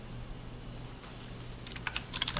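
Shortcut keys on a computer keyboard are pressed, with soft clicks bunched near the end over a faint steady hum and no speech.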